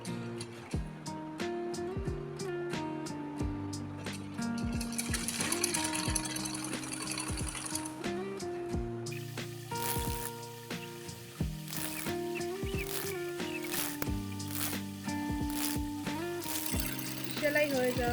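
A sewing machine stitching folded piping onto baby garment fabric, with a steady rapid mechanical whirr and rhythmic needle clatter in repeated runs and brief pauses, close and clear, while a person talks over it.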